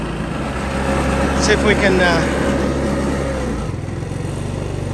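A scooter engine runs at a steady idle with a low, even drone. Its tone shifts near the end as the revs settle, and someone speaks briefly over it.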